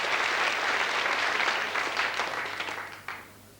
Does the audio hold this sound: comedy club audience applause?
yes